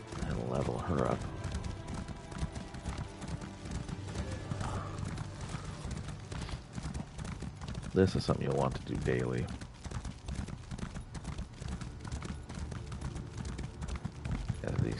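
Horse hooves clip-clop in a steady trotting rhythm while riding in the video game ESO (Elder Scrolls Online), with a whinny partway through and someone talking over the hoofbeats.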